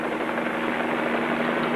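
Helicopter 38 Bravo in flight, a steady loud rotor and engine drone that holds constant and fills the whole moment with no talk.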